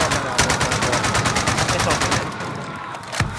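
Rapid automatic gunfire in a video game, a dense stream of loud, close shots over about three seconds ending in a single heavier blast, with no talk over it.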